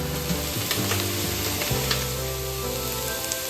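Soya chunks and cubed Chinese potato fry in coconut oil, giving a steady loud sizzle with soft scraping stirs through the first half and a continuous crackle alone afterward.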